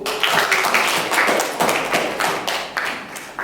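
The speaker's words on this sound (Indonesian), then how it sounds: "kita beri tepuk tangan" Steady clapping from a class of students, a dense patter of hands that keeps going for a few seconds, with no voices over it.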